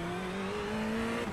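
A Ferrari 488 GT3 Evo engine in the iRacing game holds a steady, droning tone at Laguna Seca, its pitch climbing slightly as the car speeds up.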